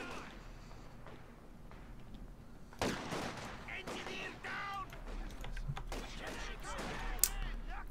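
Sniper shots and bursts of gunfire crack out in the World War II strategy video game Company of Heroes 2 during a tournament grand final, a sharp report near three seconds followed by scattered battle noise and effects, with a voice talking throughout.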